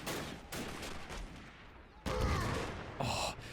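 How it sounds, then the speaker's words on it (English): Grenade explosions in a modded Civil War battle game of an amphibious Union marine river crossing at Richmond: several thumpy booming blasts in succession over a backdrop of distant gunfire, fairly quiet overall. "Another grenade being thrown."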